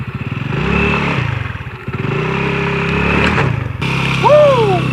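A motorcycle engine rumbles close by, revving up and easing off in waves, with a rising whine near the end.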